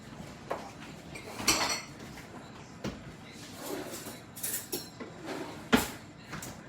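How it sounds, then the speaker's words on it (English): A fork clinks and scrapes against a mixing bowl while milk is worked into biscuit flour, irregular sharp metallic taps and short scraping strokes, close and fairly clear, with no talking. "now I'm going to grab a fork, and I'm going to mix in my milk"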